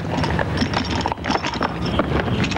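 Horse hooves clip-clop in a quick, steady stream of close, sharp knocks over a light rush of wind noise, with no voices.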